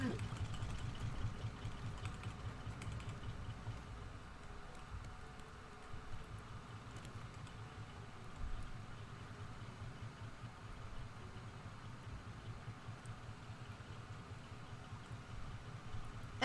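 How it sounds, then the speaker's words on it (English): In the survival video game Raft, a motor engine on the raft runs with a low, steady, rumbling drone for the whole stretch, quiet and continuous beneath occasional faint background sound. "I think one of my engines ran out of fuel."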